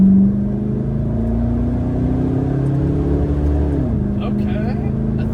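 A used car engine held at half throttle, a loud, steady drone whose pitch climbs slowly, then drops off sharply as it eases back, close to the microphone.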